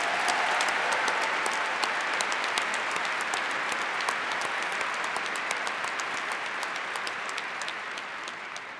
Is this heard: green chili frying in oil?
no